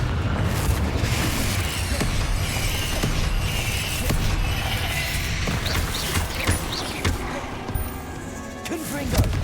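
Repeated Confringo fire-blast explosions from a Hogwarts wizarding video game, dense booming bursts over a continuous rumbling, chaotic background, loud and close throughout.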